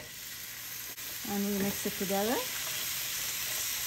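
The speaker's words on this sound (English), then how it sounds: "Now we're going to add the chicken. And now the garbanzo beans, after I washed it and drained it, I'm going to add it into the onion and the chicken." Chicken, onion and garbanzo beans sizzle steadily in a pan with a continuous frying hiss, while a voice speaks briefly over it.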